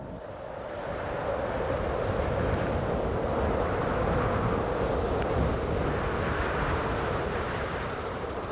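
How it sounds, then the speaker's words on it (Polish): Steady, loud roar of storm wind in an animated series, blowing without a break, a broad rushing noise that barely changes from start to finish. "To tylko wiatr."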